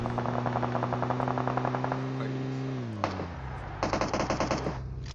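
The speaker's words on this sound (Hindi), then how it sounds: "जिस हिसाब से गोलियां चल रही है ना यहाँ पे, जो गोलियों की आवाज थी भाई बहुत अलग लेवल पे है ना" Rapid automatic gunfire from PUBG Mobile, a dense stream of bursts over a low engine-like drone that drops away midway, with a second tight volley near the end; no talk.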